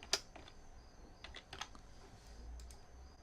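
Quick typing on a computer keyboard while renaming a file, a few soft, close key clicks scattered over a quiet background.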